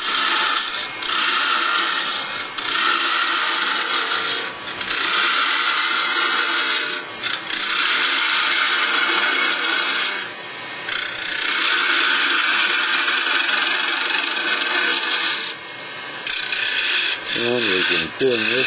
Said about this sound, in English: Now we're going to use our detail gouge.